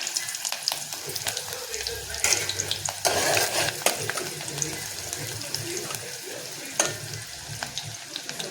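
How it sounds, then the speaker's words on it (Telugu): Oil sizzles and crackles as onion and green chili fry, with irregular pops and occasional stirring scrapes close by. "ఉల్లిగడ్డ తాలింపు వేసుకున్నాం పచ్చిమిర్చి ఉల్లిగడ్డ"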